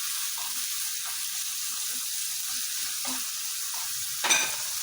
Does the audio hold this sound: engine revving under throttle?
no